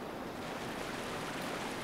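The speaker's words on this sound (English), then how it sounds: "Oh, waterfall?" A waterfall in the video game Dark Souls II gives off a steady, even rush of falling water, continuous and fairly faint with no other sounds.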